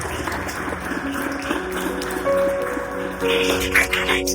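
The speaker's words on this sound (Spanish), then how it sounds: "Dale fuerte el aplauso al Señor." A church congregation applauds, a loud mass of clapping that grows in the second half over sustained organ or keyboard chords, with voices mixed in.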